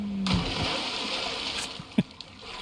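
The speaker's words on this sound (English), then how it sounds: "And leave it to me to jump into the only water that's not deep enough to splash in. Well, now I splash." Splashing water as a game character drops into shallow desert water in Icarus, a broad wet splash followed by lighter trickling and a brief sharp splatter, heard alone.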